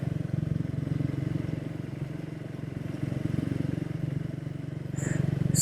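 A Triumph Speed 400 motorcycle rides in sixth gear, its engine droning steadily with a slightly uneven, lurching pulse; the sound is continuous and close, with light clatter and a brief higher noise near the end.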